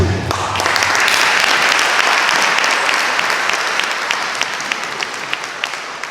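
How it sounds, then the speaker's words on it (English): Loud applause from a crowd at a ribbon-cutting ceremony, sustained clapping that swells quickly and then thins out gradually into scattered claps near the end. "Let's give them a round of applause"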